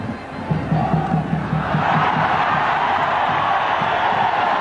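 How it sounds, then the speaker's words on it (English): Cricket crowd at a one-day international in Pune cheering and shouting for the home side, a loud, dense roar of many voices with rhythmic chanting early on that swells into sustained cheering. "with the crowd up out of the seats shouting for the home team"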